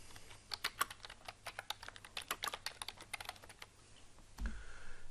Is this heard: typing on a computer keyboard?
yes